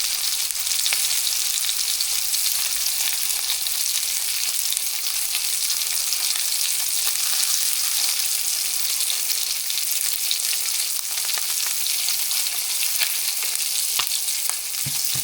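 Minced garlic, four to five cloves, and sliced mushrooms fry in a pan for a one-pan garlic butter chicken, giving a steady, loud, close sizzle that holds evenly throughout with faint stirring scrapes near the end.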